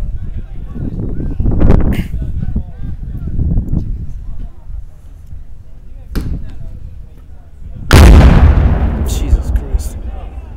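Marines firing AT4 rocket launchers on a range: a few heavy booming blasts spaced apart, the last one loudest and trailing into a long rumbling roar, with people talking nearby between shots.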